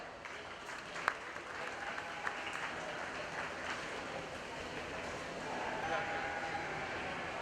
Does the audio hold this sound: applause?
yes